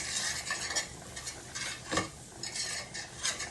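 Flour is stirred quickly into cooked onions and celery in a pan, a soft continuous scraping and light sizzle with brief, rhythmic strokes throughout.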